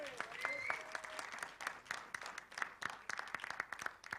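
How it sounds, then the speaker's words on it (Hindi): An audience applauds Govinda at the trailer launch of Aagaya Hero, with a burst of many hands clapping at mid distance. Crowd noise and a few voices blend in throughout. "गोविंदा जी के लिए जोरदार तालियां हो जाएं"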